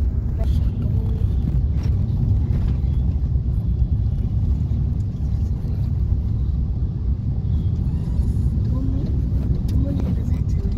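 A car cruises along a main highway at night on a Mumbai to Dharashiv drive, its tyres and engine making a steady low rumble throughout, with people talking inside the cabin.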